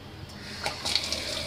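Tap water runs into a sugar container set to soak in a kitchen sink, a steady near splash with a few brighter gurgles, no talking.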